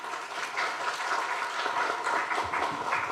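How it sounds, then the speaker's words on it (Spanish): Steady applause fills a conference hall at the Peruvian Congress as a speaker is welcomed, a continuous even clatter of many hands clapping for about three seconds with no voices over it. "lo recibimos también con aplausos"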